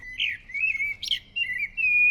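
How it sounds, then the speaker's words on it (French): A common blackbird in an urban garden sings clear, fluted whistled phrases in short bursts, fairly close and alone against a quiet low background hum. "Les mélodies du merle sont celles que préfère le jardinier."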